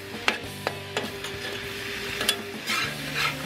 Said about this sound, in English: Stir fry that up